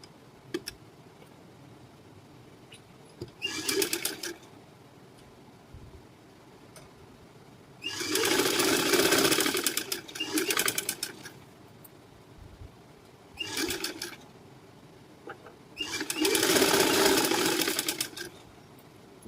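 A sewing machine stitches a halter neck collar in several separate runs, each lasting one to three seconds with quiet pauses between, the whirring motor and rapid needle clatter fairly close and heard without talk.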